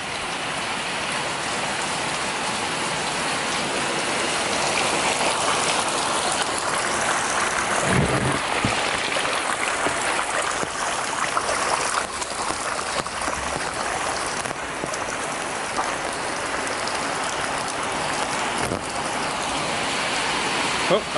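Heavy tropical rain pours steadily onto a flooded garden, a dense continuous hiss of drops on water and surfaces that holds loud and even throughout, with brief spatters and knocks from a plastic sheet over the camera.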